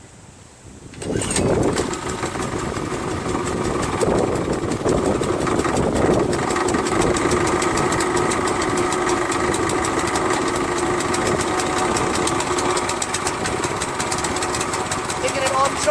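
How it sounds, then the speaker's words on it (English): A Harbor Freight Predator 212cc engine on a plate compactor fires up on choke after a second of quiet, then settles into a loud, steady, rattling idle close by. "Got it on choke. I added gas. Throttle is at a little bit above the turbine."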